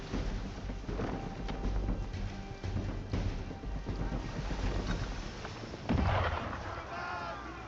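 Ship cannon fire booms out during a naval encounter in Assassin's Creed III, a dense run of heavy blasts over continuous rumble and water noise, with a louder burst near the end.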